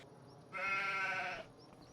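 A single sheep bleats in a farming video game, a clear wavering cry lasting about a second, close and moderately loud over a quiet background.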